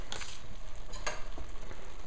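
Roasted red peppers and cherry tomatoes for a quinoa salad are mixed in a hot pan, giving a close sizzle with a couple of brief scraping stirs.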